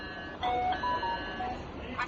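A smart lock's doorbell ringing, a short series of clear electronic beep tones at moderate loudness, close by in an indoor room.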